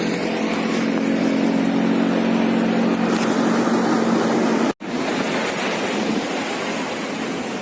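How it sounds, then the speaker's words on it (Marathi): Sea waves wash onto the sandy beach at Ganpatipule on the Konkan coast as a continuous, loud roaring surf with a brief dropout partway through and no speech. "हा लाटा तर इतक्या भारी वाटतात"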